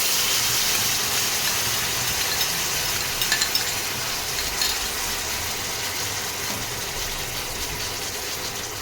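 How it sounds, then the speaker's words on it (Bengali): Water-mixed spice paste goes into hot oil for shahi cauliflower curry, giving a loud, steady sizzle and hiss close up, with a few faint stirring clatters and no speech. "এই যে মশলাটা পেস্ট করা আছে, মেশানো আছে জল দিয়ে, এবার এটা আস্তে আস্তে দিয়ে দেবো।"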